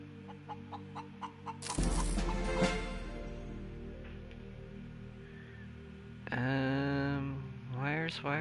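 Chicken clucking in the space survival game Breathedge, a series of short repeated clucks at the start, then a louder burst of sound and a fluttering, squawking call near the end, set against a steady game hum.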